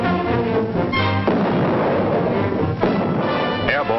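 Artillery guns firing in a 1944 wartime battle scene, with heavy booming blasts that start abruptly and are followed by sustained rumbling, all captured with narrow, old-film-style fidelity.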